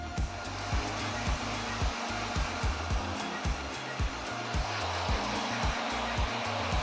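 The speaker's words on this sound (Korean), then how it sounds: "그래서 이제 드라이기를 할 때 항상 뒤에서 앞으로" A hair dryer blows steadily and close while drying a drop-cut hairstyle from back to front, its whirring drone shifting slightly with regular bumps as it moves around.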